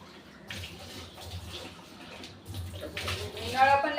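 Tap water runs and splashes while a kitchen sink basin is washed clean, a steady close wash with louder bursts toward the end, and a voice speaks faintly underneath.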